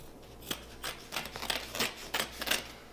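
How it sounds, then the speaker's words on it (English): Scissors cut off excess fabric while reupholstering a dining chair: a quiet, close series of crisp snips in an uneven rhythm, about a dozen cuts with no talking. "I'm going to cut off the extra fabric"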